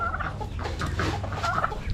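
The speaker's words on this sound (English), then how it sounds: "throw some scratch grains out for these chickens" Several chickens clucking and gabbling together at close range in a farm barnyard, a busy continuous chatter with no talking.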